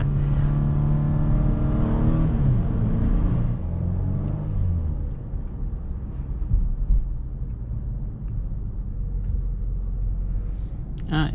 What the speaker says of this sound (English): let's go ahead and do a quick acceleration right here